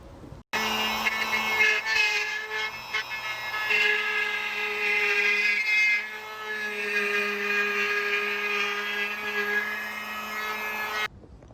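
A handheld router cuts along the edge of a clamped wooden board for a boho mirror, a loud steady high-pitched whine running continuously for about ten seconds before stopping abruptly.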